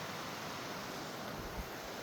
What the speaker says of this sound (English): But we have a waterfall right here.